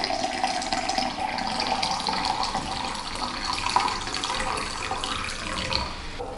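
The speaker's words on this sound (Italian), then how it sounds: "versiamo quasi un litro di acqua in una caraffa" Nearly a litre of water pours steadily into a carafe for homemade iced tea, a continuous moderately loud splashing rush lasting several seconds with no talking.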